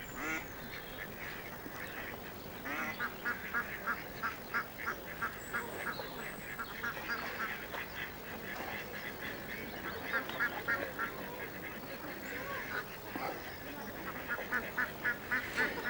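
Ducks quack in repeated bursts across an outdoor scene, clear but moderately distant, over a constant background hiss.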